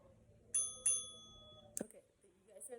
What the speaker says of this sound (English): So you hear the bell, it rings, and then it switches workouts.